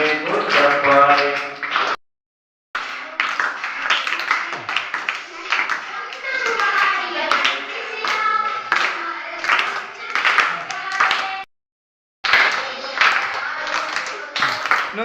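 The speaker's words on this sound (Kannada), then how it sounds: "ಚಪ್ಪಾಳೆ ಮೂಲಕ ಚಪ್ಪಾಳೆ ಚಪ್ಪಾಳೆ" An audience at a Q&A gathering in a new Jain temple in Konnur claps in thanks, with steady close hand claps mixed with children's and adults' voices and two short silent breaks.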